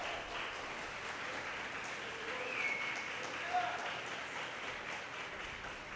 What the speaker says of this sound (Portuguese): Dão glória a Deus, um aplauso ao Senhor Jesus.